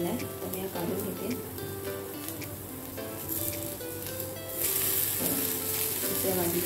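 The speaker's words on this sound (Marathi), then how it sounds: "आता अजून 3 मिनटं पण दुसऱ्या बाजूने पण शेकून घेणार आहोत, थोडं लालसर होईपर्यंत" A jowar (sorghum flour) dosa roasts on a hot pan, giving a continuous soft sizzle that grows a little brighter near the end, with someone talking over it.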